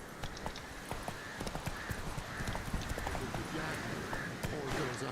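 Roach, Geralt's horse in The Witcher 3, gallops with steady rhythmic clip-clop hoofbeats over a constant ambient bed, moderately loud and continuous, with no clear talk.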